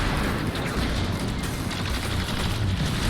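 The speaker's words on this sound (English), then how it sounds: "A little too close to that explosion." An explosion in Destiny 2 booms as a dense, sustained roar of crashing blasts that fills the whole moment loudly, with no voice on top.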